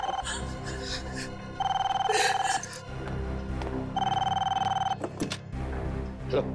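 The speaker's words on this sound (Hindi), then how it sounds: "उन्हीं लोगों का फोन होगा ये" A telephone rings in two long bursts separated by a pause, loud and close, over a low background hum with some faint voices.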